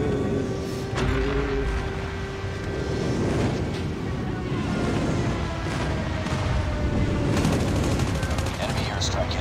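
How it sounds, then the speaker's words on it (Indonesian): Friendly airstrike in a mobile shooter game during play with the AK117 rifle: steady rumbling explosions and crackling gunfire sustained throughout, fairly loud, with game voice cues and tones mixed in. "Friendly airstrike incoming."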